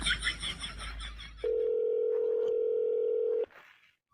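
A mobile phone rings with a steady, loud electronic tone held for about two seconds, following a stretch of background music and noise, then cutting off abruptly.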